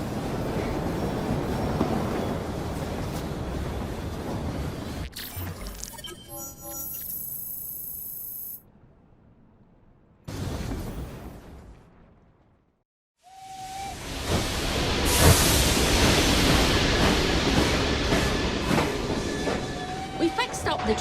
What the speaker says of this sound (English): We fixed up the train for you.